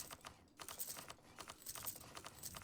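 Close computer keyboard typing with quick irregular clicks in dense runs after a short pause, alone and without talk, during a livestream of Europa Universalis IV.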